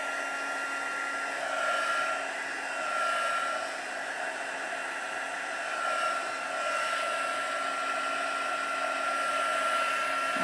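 A hair dryer blows steadily on fresh paint on an art journal page, a constant close whooshing whine with a slight rise and fall in level.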